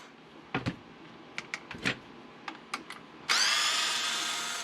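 A power screwdriver removes screws from the rear end of a Traxxas Bandit VXL RC car. Several short, close whirring bursts sound at irregular intervals. They are followed by a longer, louder sustained drill run. No one speaks.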